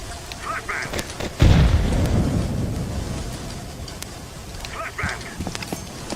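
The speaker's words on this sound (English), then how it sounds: "I'm throwing a flashbang." A flashbang grenade goes off in a video game with a sudden loud burst, then a rumbling roar that fades over several seconds, while scattered game sounds and faint voices continue around it.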